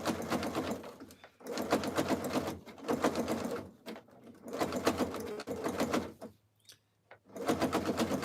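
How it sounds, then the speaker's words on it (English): A Quilt Ambition 635 sewing machine stitches a jelly roll rug in several bursts of rapid, close needle chatter, each lasting about a second or two, with brief quiet pauses between runs. "No, it's not an industrial machine. It's a Quilt Ambition 635."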